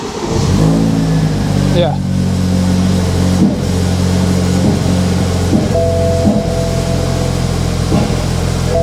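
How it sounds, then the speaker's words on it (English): A BMW 220i M Sport engine runs with a throaty, uneven idle, its steady low rumble broken by irregular misfire pulses, close and loud under brief talk. "I know why it's doing that misfiring now."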